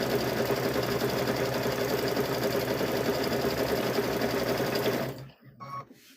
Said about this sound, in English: So we're going to sew around.